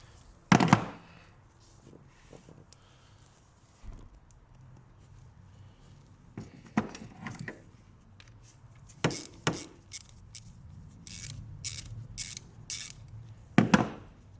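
A ratchet loosens a diesel filter fitting on a Renault Master van, giving bursts of quick metallic clicks and clunks between quieter pauses, close by with no talk.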